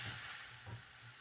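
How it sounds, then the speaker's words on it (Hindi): Seekh kofta mixture frying in a pan, a steady close hiss and sizzle with a few soft stirring scrapes, no voices. "यहाँ इसको मैं अच्छी तरह भून के"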